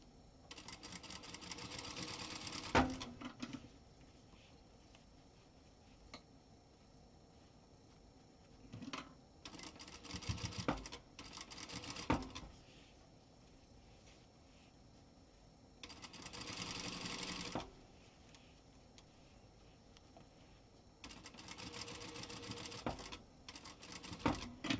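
An overlocker sews stretchy leggings for a ball-jointed doll. It runs in several short, fairly quiet bursts of rapid whirring stitching, with calm gaps between runs.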